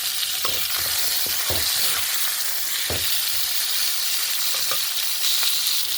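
Chutney ingredients with tomato pieces frying in a pan, a loud continuous sizzle with scattered stirring scrapes and pops.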